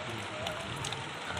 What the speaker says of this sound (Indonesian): Lagi turun hujan gemerincik.